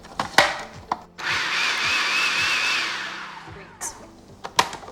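A food processor pulses flour, sugar and salt in a steady whirring burst lasting a couple of seconds, framed by clicks and knocks of the lid and bowl.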